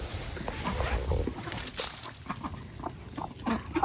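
Chickens crowd in and cluck over a cup of mealworms and soldier flies after an ice storm, a busy, close chatter of short calls over shuffling and a low background rumble.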